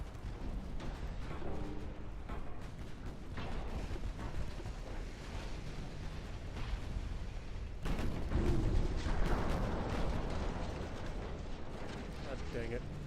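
Heavy naval battle in Ultimate Admiral Dreadnoughts, with a torpedo striking a ship amid continuous rumbling gunfire and explosions; a louder, denser blast swells near the middle and lingers, all dense and near without pause.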